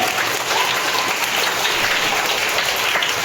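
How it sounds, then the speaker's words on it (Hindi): School children at a birthday celebration at a Nandlal ji public school applaud a student, a dense, even wash of many hands clapping throughout, with no talking. "प्रज्ञा पांडे के लिए जोरदार ताली बजाइए लोग"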